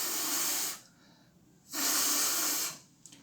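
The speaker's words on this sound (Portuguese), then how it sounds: "O barulho vinha da fogueira." A campfire gives off two long, loud surges of hissing with a quiet gap between them; no distinct crackling stands out.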